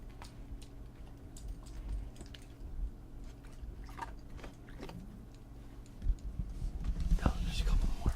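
A dog chews and crunches on treats close by, wet, irregular munching that grows louder toward the end, with soft whispery voices and a low room hum underneath.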